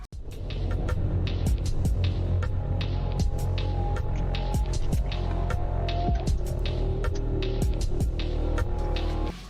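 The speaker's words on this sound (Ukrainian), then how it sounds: "Ще один трек, який, на жаль, не можна почути в грі." A moody electronic music loop, unused in the game DOORS, with a droning low hum, steady rhythmic ticks and a wavering melodic line, continuous and even throughout.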